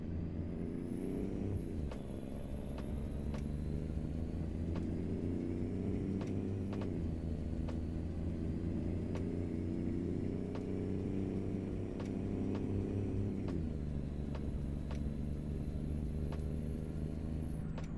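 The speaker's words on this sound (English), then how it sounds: "Let me get some revs in here and see what it sounds like now." A heavy truck engine in American Truck Simulator revs up and down in long sustained surges, a deep droning rumble with a high whine running over it, heard alone throughout.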